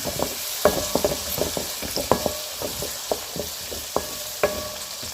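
Chopped onions sauté in a pan for chicken curry: a steady oil sizzle with a sharp scrape or clatter of the spoon every half-second to second, close and fairly loud, with no voices.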